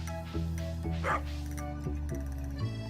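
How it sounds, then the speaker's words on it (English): Dog barking in the Stardew Valley farming game, a few short sharp woofs and yips in a quick series, clear and fairly close, with no speech over them. "Just heard my dog."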